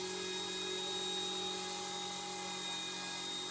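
A small Eachine E120 BO-105 RC helicopter hovers indoors with a constant high-pitched rotor and motor whine, steady and close throughout, with no voices.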